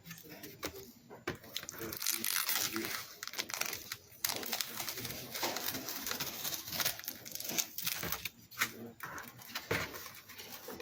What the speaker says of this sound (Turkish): Şimdi bantlarımızı sökelim.